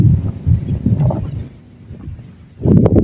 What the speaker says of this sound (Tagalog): Medyo mahangin mga kasurot.